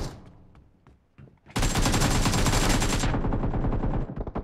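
Gunfire in the battle royale game BGMI: a few scattered single shots, then a loud, sustained burst of automatic fire lasting over a second, followed by fainter trailing shots.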